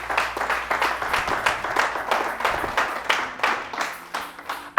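Congregation in a church service applauding to acclaim the word, steady dense clapping from many hands filling the room throughout, swelling in uneven waves with no voices over it.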